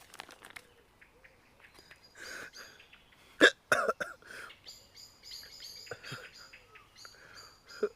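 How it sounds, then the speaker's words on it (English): Several sharp hiccups and a cough close by, mixed with soft breathy whispering and faint background sounds. "Coughed and hiccuped."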